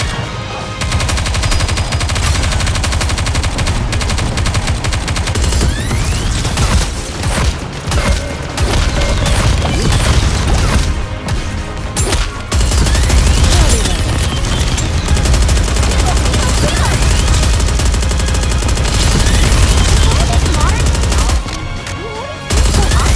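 Rapid video game gunfire from Goddess of Victory: Nikke, loud and sustained bursts of shots and booms running nearly continuously with brief gaps, layered with game effects and a faint voice.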